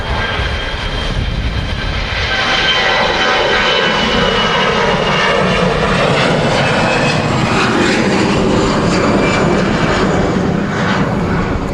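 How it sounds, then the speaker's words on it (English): An easyJet jet airliner departing Manchester Airport for Belfast International roars loud and steady for the whole stretch, a continuous broadband engine rush with slowly shifting tones and no voices. "We're going to get this EasyJet out first. Heading off to Belfast International."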